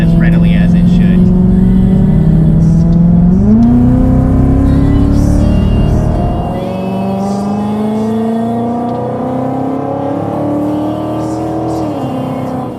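A Coyote V8 Mustang accelerates on a drive, its engine note climbing loudly in pitch, then dropping at a gear shift before rising again, heard from inside the car.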